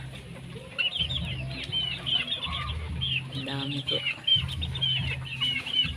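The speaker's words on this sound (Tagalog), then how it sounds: "Ayan, mga tandang din po yan guys. Tandang at saka babae." Hens and roosters cluck and murmur in a farmyard with a rooster's call rising in the middle, while a person speaks briefly over the birds.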